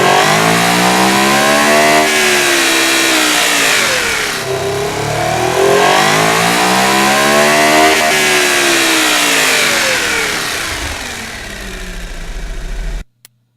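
A 3.7-litre car engine in a driving game revs up and down in long sweeping pulls, loud and close, rising and falling several times before cutting off abruptly.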